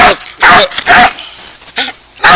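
A female dog barks insistently for a thrown stick, several sharp close barks in bursts with brief gaps, loud and near.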